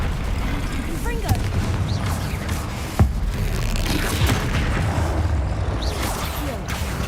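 Confringo blasting spells going off during combat in the Hogwarts Legacy video game, a dense, loud wash of booming blasts and whooshes with a couple of sharper impacts near three and four seconds, under a player's spoken spell calls.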